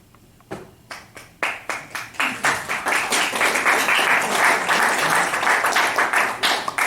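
An audience applauds a speaker at a real estate investors' meeting, the clapping starting sparse and quickly swelling into steady, dense applause from a roomful of people.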